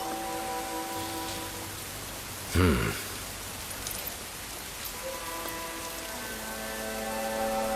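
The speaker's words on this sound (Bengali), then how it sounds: "তোমার সন্তানের পবিত্র আগমনে এই অঞ্চলে বৃষ্টি বর্ষিত হলো।" Steady rain falls in a dense, even hiss, with sustained musical tones running beneath it and a brief louder swell near the middle.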